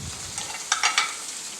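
Chicken frying in a pan with ground garlic and ginger, a steady soft sizzle broken by a few quick stirring scrapes near the middle, close and fairly quiet, with no talking.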